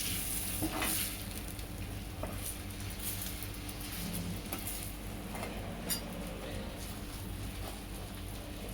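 Bangda (mackerel) pieces coated in besan fry on a hot tawa with a steady close sizzle, broken by occasional light scrapes and clinks as the fish is moved around the pan.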